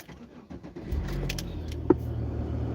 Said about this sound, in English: Car starts up.